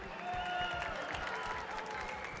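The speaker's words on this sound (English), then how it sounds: "Let's clap your hand, let's clap your hand." Audience clapping and cheering at Rajadamnern Muay Thai stadium after a bout, a quiet, distant wash of applause over a murmuring crowd, with some faint talk mixed in.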